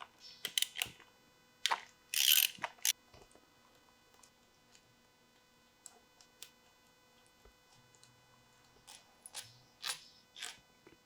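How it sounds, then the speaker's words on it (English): A 10mm wrench works the bolts off an outboard motor during a thermostat and zinc change, giving sparse metallic ratcheting clicks and taps, close and fairly quiet, with brief louder clatters between stretches of near silence. "We're gonna start by removing these 4 bolts. 10mm wrench to pull them off."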